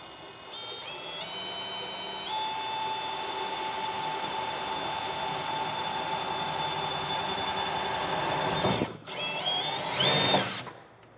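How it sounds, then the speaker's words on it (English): A power drill whirs steadily at close range for several seconds, drilling a pilot hole up through a truck bed, its pitch shifting slightly, then stops briefly before a final loud burst. "drill up through the bed. That's going to be our pilot hole."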